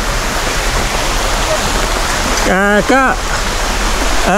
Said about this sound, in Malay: Sungai Riau naik sikit je sebab hujan.